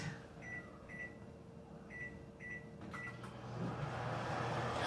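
A microwave oven hums steadily while cooking potatoes for cheesy corn chowder, with a few short beeps near the start and the running drone growing slightly louder toward the end.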